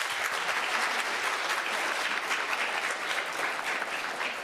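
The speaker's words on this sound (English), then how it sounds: "So give yourselves a round of applause" Audience applause at a citizenship challenge ceremony honoring the top ten schools: a steady, dense wash of many hands clapping, loud and even throughout without a break.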